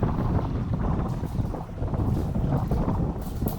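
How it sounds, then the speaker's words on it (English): Steady wind gusting across the water while fishing from a boat, a loud broadband buffeting roar on the microphone that swells and dips throughout, with no talking. "you can kind of hear the wind got blowing"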